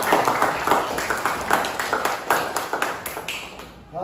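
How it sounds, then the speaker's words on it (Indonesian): Classmates clapping in a classroom for a fellow student, a steady patter of hand claps that lasts throughout and fades slightly toward the end. "Oh, tepuk tangan untuk teman saya."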